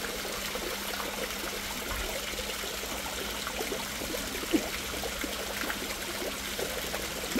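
Water trickles steadily, a continuous soft stream with faint splashes as someone plays in it outdoors in Okhaldhunga, Nepal.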